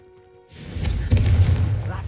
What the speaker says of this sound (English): you'll find that a Confringo cast travels a bit farther than that of a spell like Incendio.